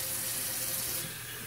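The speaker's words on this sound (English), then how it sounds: "I fill this up with this filtered water" Filtered water runs from a tap into a container, a steady close rushing stream that eases slightly toward the end.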